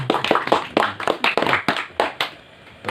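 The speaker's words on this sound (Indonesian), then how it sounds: "tepuk tangan." A small group claps at a waste-bank community meeting, producing a quick run of sharp, close hand claps that thin out to a few last claps and fall quiet.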